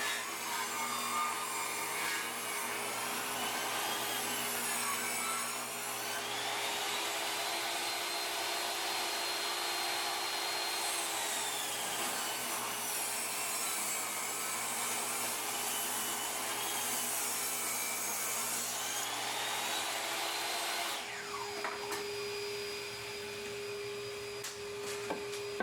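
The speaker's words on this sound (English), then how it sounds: "Rip the 31-inch part into two 2x2s, using the thickness as a guide for the fence." A power saw rips a 2x4 lengthwise into two 2x2s against a fence, a steady, loud whining cut that holds for about twenty seconds and then drops in pitch as the blade comes free, with no talking.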